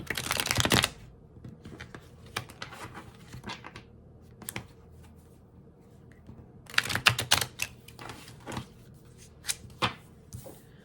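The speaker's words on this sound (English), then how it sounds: "I didn't shuffle this one, so let me shuffle it again." A deck of tarot cards is shuffled by hand in several quick, crisp bursts of riffling and tapping, separated by quiet pauses.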